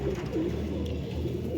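A flock of about 350 flying pigeons coo softly and repeatedly in low, rolling calls, close by and steady for a brief moment.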